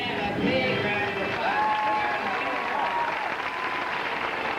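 Cruise-ship audience applauding for Pam during a Caribbean cruise gathering, steady dense clapping with crowd noise and some voices and cheering mixed in throughout.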